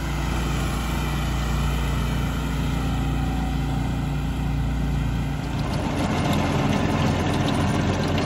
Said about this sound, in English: Take a look at that tiller working that sand 6 to 8 inches into the ground